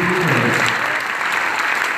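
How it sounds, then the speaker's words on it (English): An audience at a school dance-off claps loudly for teachers, with dense, sustained applause filling the whole stretch close up. "So can we give a round of applause for awesome teachers?"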